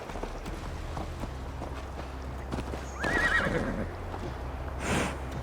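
A horse whinnies loudly while hooves clip-clop as Eivor mounts up in Assassin's Creed Valhalla, with a second neigh a moment later over a low steady outdoor background.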